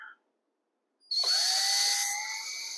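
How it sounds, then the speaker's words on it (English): A power drill drives a drywall screw into backdrop panels, a brief click followed by a loud, close, whining spin-up that holds steady and then slows slightly for about a second and a half. "Now I just need to add a few screws to secure these panels together."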